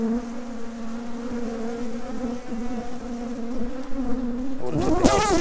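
Honeybees at an orchard apiary hive make a steady, moderately loud droning buzz close by as frames are handled, with a brief scrape or rustle near the end.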